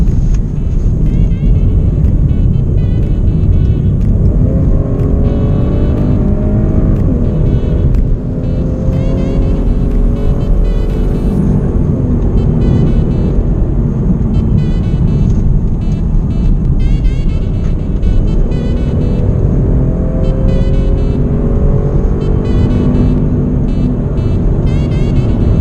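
A 2-litre Holden Commodore pulling away and accelerating on a misty road in Otago, a loud close engine drone climbing through several gear changes over a low rumbling cabin hum.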